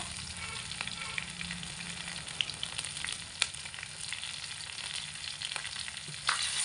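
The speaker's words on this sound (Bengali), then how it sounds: "এই সমস্ত মশলাগুলোকে একসঙ্গে খুব ভালো করে একটু কষিয়ে নেব, মোটামুটি 1 মিনিট সময় ধরে মিডিয়াম আঁচে।" Spices with salt and turmeric sautéing over medium heat in a pan for a vegetarian pumpkin dish, giving a steady, close sizzle with occasional soft scrapes of stirring and no talk.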